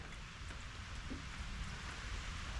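Soft, steady rain hiss with a faint patter on a car shed roof, distant and even throughout.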